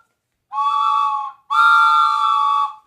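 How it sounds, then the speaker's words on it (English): Wooden toy made from a block of 2x2 with a whistle in each corner, blown in two loud, steady chord-like blasts, each about a second long, resembling a train whistle. "it's just a hunk of 2x2 with a whistle in each corner"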